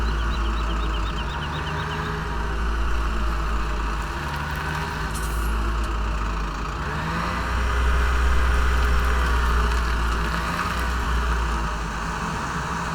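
A tractor or truck engine in Farming Simulator 17 idles and drones steadily, with a low rumble that swells and fades gently over time, and faint beeping is audible early on.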